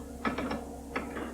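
An optical printer mechanism for combining film elements into special effects produces a few faint, close mechanical clicks and ratcheting ticks in short clusters over a steady low hum.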